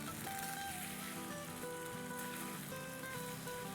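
Crushed ginger fries in a karahi with a dense, steady sizzle that fills the clip, close and even in loudness, with background music playing beneath and no talking.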